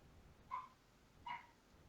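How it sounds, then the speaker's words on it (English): A dog gives two short, faint yips about three-quarters of a second apart over quiet background hiss. "Well, the dog agrees too"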